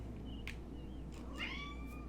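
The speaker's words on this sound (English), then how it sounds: "oh, this cat is locked inside, he's so sad." A cat meows a few times from the medieval colony-building game Going Medieval, where the animal is locked inside; the cries are thin and plaintive over a low steady in-game ambient hum, with no talk.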